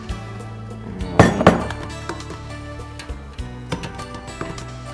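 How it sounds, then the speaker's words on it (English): Sliced apples are tipped into a greased baking pan for an apple crisp. A quick cluster of clinks and thuds comes up close and fairly loud, followed by a few lighter taps as the pieces settle. "I'm going to take my apples and I'm going to dump them in the pan like this."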